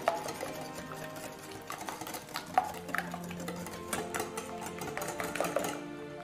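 Sugar being whisked into egg yolks in a bowl, making a steady run of soft clinking and scraping strokes close by with no talking.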